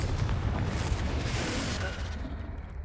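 A Confringo spell blast in Hogwarts Legacy erupts as a loud, rumbling explosion that fills the space and then slowly fades, with no talk over it.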